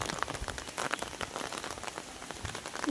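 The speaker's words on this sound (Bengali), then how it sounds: "ঝিমঝিম ঝিম বৃষ্টি পড়ে।" Rain falls steadily, drops pattering on nearby surfaces in a dense, even hiss with scattered louder taps and no talking.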